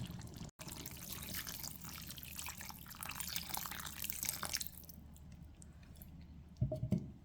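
Water poured to rinse a container into a banana foutou sauce with pistachio and chicken, a close splashing, sloshing pour that runs steadily then stops, followed by a few soft drips and wet squishes.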